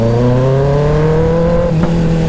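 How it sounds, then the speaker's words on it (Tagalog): A 2024 Kawasaki ZX6R motorcycle engine hums close by while its pitch glides steadily downward, then gives a short throttle blip during a downshift before settling again. "Yung ungol ng makina"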